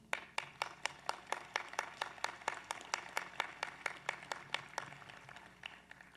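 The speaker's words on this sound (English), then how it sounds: "give yourselves some well-deserved applause" Graduates at a university commencement ceremony clapping for themselves: a steady run of sharp, evenly spaced claps, fairly quiet and slightly distant, thinning out toward the end.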